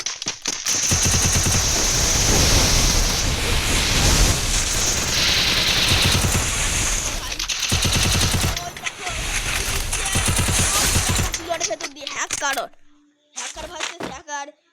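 Rapid bursts of gunfire in a shooting video game, loud, dense and nearly continuous for most of the span, with fast automatic volleys before thinning into a few sparse shots and a brief near-silent gap at the end.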